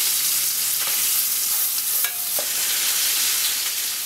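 A big, thick piece of meat sears in a pan in its own fat for a ramen dish, giving a loud, steady broadband sizzle throughout, with a few brief clinks and scrapes breaking through and no voices.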